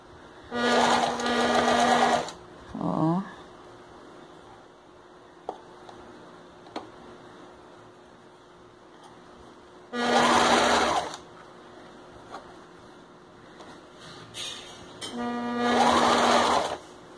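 A sewing machine stitches a plush Captain America slipper in three loud bursts of a few seconds each, separated by quieter stretches with faint clicks and a brief squeak.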